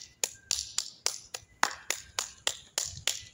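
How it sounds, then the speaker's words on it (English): Eleven sharp hand claps in a steady, even rhythm, close and crisp, each one a distinct snap with a short decay. "Hands, hands, clap your hands, clap your hands."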